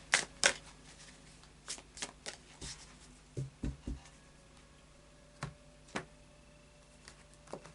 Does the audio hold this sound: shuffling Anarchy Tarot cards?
yes